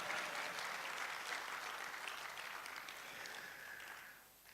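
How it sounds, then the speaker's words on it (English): Sustained applause from a large audience at a medical college's annual general meeting in Ghana, dense and steady throughout before easing off at the very end. "another round of applause for him."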